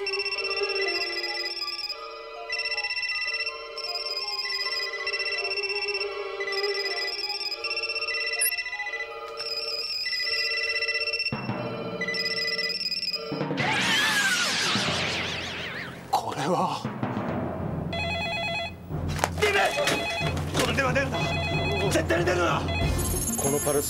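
A telephone bell rings in repeated electronic bursts through a music score, loud and close, until music and effects take over the second half.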